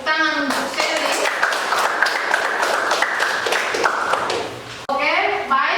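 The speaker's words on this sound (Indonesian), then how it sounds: "Mari kita berikan tepuk tangan untuk Sally." Classroom applause for a student after a presentation in an Indonesian lesson: a dense burst of many hands clapping for about four seconds, fairly loud and steady, with a voice speaking before and after it.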